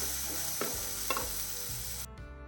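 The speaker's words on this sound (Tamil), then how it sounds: "கொஞ்சமாக கருவேப்பிலையும் சேர்த்துருக்கேன் வதங்கட்டும் மீடியம் ஃப்ளேம்லேயே வச்சு தான் வதக்கணும்" Onions and curry leaves saute in a pan over medium flame for Kerala fish curry, a continuous sizzle broken by a few spatula scrapes, ending abruptly.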